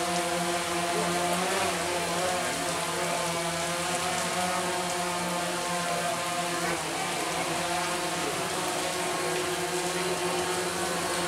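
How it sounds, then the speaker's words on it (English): A drone flying at Hocking Hills gives off a steady, fairly loud buzzing hum with layered harmonic tones that holds for the whole stretch. No one speaks. "Guy's drone."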